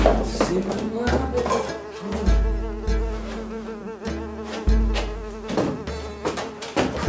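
Flies buzz close by in a steady, droning whine with wavering pitch and pulsing swells that continue for several seconds, with no voices over them.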